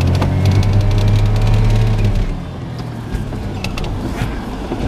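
A Suzuki Carry kei truck grinds slowly through snow deeper than the vehicle, pushing a wall of snow ahead; a steady low engine drone with rumbling crunch, louder at first and easing slightly later.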